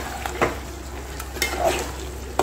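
Mutton curry with finely chopped mint and coriander is stirred in a handi pot, giving a soft simmering hiss with a few brief scraping and clinking strokes of a spoon, close and moderate.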